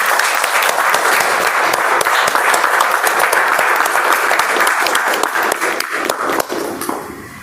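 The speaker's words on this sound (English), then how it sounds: "A big round of applause to all of you who came up here and spoke." Audience applause at a gathering after people spoke, loud sustained clapping from a full room that tapers off near the end.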